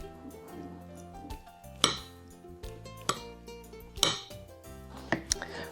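Pasta is scooped and stirred together with basil pesto in a dish, giving several sharp clinks and knocks of a utensil against the dish between softer scraping and mixing sounds, close by.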